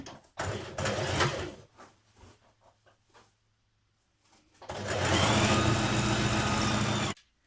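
A sewing machine stitches a trouser leg seam, starting with a short back tack, then a pause with small clicks before a steady, loud, continuous run of stitching.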